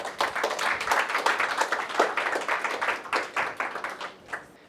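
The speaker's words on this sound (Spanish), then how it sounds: "Un aplauso para Manuel." A church congregation breaks into applause, a loud burst of distinct, fairly rhythmic hand claps that gradually thins and softens toward the end.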